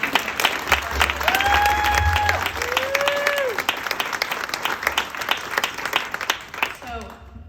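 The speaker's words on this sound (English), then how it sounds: "can we do another round of applause" An audience applauding at a cancer awareness event, steady clapping throughout with a few whistles or cheers rising briefly above it before it fades out.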